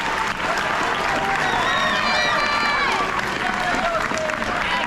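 Loud, steady applause and cheering from a school audience at an 8th grade awards ceremony, a dense wash of clapping with crowd noise that holds for the whole stretch.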